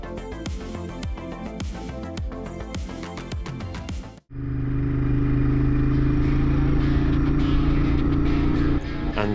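A Ducati Monster naked street bike under way on the road, its engine note loud and steady with a sudden shift into a smoother, sustained drone halfway through, heard from the rider's position.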